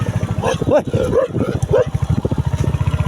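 A motorcycle engine hums steadily on a road ride in Pakyong, East Sikkim, while a dog chasing the bike lets out a few sharp barks close by over the running motor.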